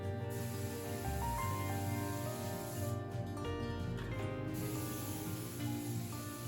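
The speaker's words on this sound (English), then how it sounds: "So you notice as I'm spraying here" Steady hiss of a spray gun applying sealer finish onto a chip-carved wooden bench, continuous and close, with a brief pause partway through.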